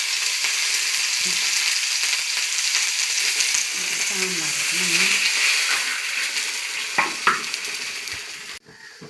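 Dried red chillies and curry leaves frying in hot oil for sambar, a steady close sizzle with brief stirring clinks and a few sharp pops near the end.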